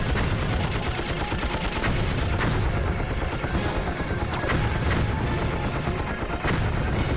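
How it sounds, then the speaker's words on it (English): Loud, dense barrage of explosive blasts and rapid gunfire-like bursts as an enemy launches missiles in Ratchet and Clank 3: Up Your Arsenal, a continuous roar of impacts with no pause across the stretch. "Now I think he's gonna launch his missiles at me,"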